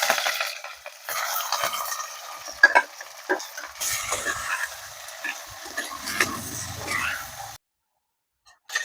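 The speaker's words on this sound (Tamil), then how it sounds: "எண்ணெய் சூடாயிடுச்சுங்க கடுகு போட்டாச்சு கட் பண்ணி வச்சுருக்கிற எல்லா காயுமே சேர்த்துக்கலாம்" Chopped ivy gourd and carrot hit hot oil already crackling with mustard seeds, giving a steady close sizzle with stirring scrapes and clinks that stops abruptly near the end.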